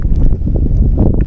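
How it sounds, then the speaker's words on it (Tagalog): Gusty wind buffeting a microphone outdoors while walking, a loud, low rumbling roar with no voices. "Medyo mahangin pa rin."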